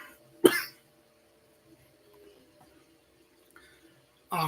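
Two sharp coughs, one near the start and another at the very end, separated by a long near-silent stretch with faint background noise.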